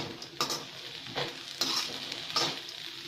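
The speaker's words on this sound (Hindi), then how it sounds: "अच्छे से प्याज को मिक्स कर लिया है" Chopped onions are stirred into moong sprouts in a sizzling pan, a spoon scraping in four distinct sweeps over a steady frying hiss, close up.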